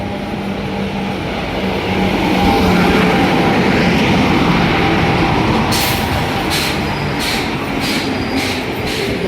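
A passenger train pulls into a station, its deep steady rumble and wheel noise filling the platform, with a few sharp clanks and hissing brake bursts toward the end.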